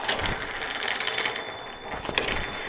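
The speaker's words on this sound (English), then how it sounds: "take this machine, put it here, and then just close the ring." Metal snack-making press machine having its ring closed and locked, producing close mechanical clicks and ratcheting scrapes, with a sharper click near the end.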